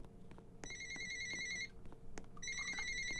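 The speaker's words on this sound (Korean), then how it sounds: "전화 왔다." A telephone rings inside the Roblox game Weird Strict Grandma, with two bursts of bright electronic ringing separated by a short pause and nobody speaking.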